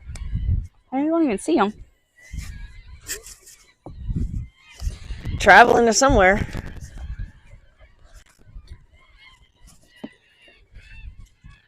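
A flock of seagulls gives loud, wavering calls in two bursts, close by and outdoors. People talk between and over the cries.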